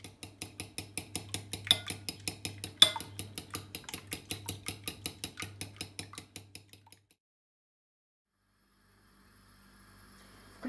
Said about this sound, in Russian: Разбиваем 3 яйца, добавляем 1/4 чайной ложки соли и будем взбивать вилкой.